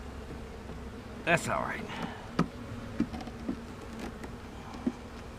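A small honey bee swarm in a wooden swarm box hums with a faint, steady buzz, overlaid by occasional knocks and handling clicks while a person speaks briefly.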